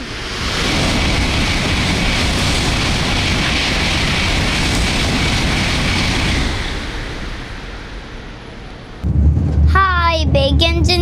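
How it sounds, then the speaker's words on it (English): Shinkansen bullet train running at high speed in Japan, a loud, steady broadband rushing roar that continues for several seconds, eases slightly, then gives way to someone speaking at the end. "the Shinkansen bullet train in Japan."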